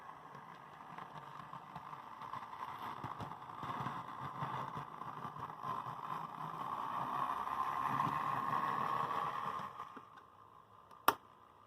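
An Athearn Blue Box F7 model locomotive runs along its track at very low power, a steady faint motor whine and rolling hum that swells slightly before stopping, ending with a sharp click.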